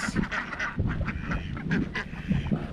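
Ducks quack repeatedly and close by, a busy overlapping chorus of nasal calls with no talking.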